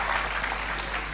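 Church congregation applauding during a worship service, a dense steady wash of clapping filling the whole short stretch without break.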